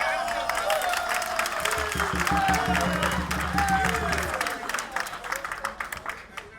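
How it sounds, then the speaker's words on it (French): A crowd at a neighbourhood political rally applauds and cheers for President Ali Bongo Ondimba, clapping mixed with shouts and voices, with a low tone droning beneath for a few seconds before the clapping thins out. "On applaudit encore."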